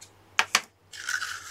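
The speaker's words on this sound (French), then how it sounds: "votre ruban, vous vous coupez deux petits morceaux de ruban" Scissors snipping small pieces of ribbon for a gift box: two quick crisp cuts close by, followed by a soft rustle of the ribbon.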